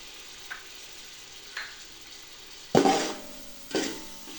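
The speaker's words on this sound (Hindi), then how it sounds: "तकरीबन 3 से 4 मिनट तक इसको मसाले में भूनेंगे" Chopped chilies and tomatoes sautéing in spices in a pan: a soft steady sizzle with a few light stirring scrapes and two louder clanks of a utensil against the pan, no voices.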